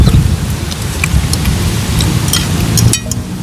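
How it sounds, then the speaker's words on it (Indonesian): Steady heavy rain pours down during an outdoor barbecue of grilled chicken fillet, squid rings and shrimp, a dense close hiss with scattered drip impacts that cuts off abruptly near the end. "Wah hujan."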